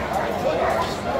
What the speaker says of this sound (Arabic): ده كلب بيتبو، بس وش بولي، يعني هو جسمه بيتبول بس وشه بولي